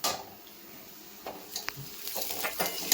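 Green chilies drop into onions frying in a pan for upma, giving a soft, steady sizzle with scattered light scrapes and clinks of stirring, fairly quiet and close.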